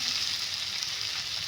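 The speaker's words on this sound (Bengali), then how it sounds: "এখন আমি দিয়ে দেব এখানে গরম জল।" Hot water hitting spiced potatoes frying in a pan, a steady loud hiss and sizzle close up with no talk.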